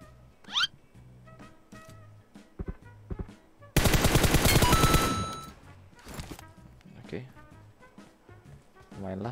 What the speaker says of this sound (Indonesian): Tuh temen gue nembak.